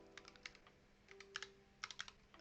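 Quick bursts of typing on a computer keyboard, light clicking keystrokes in short irregular clusters with brief pauses between them, close and fairly quiet, no voices.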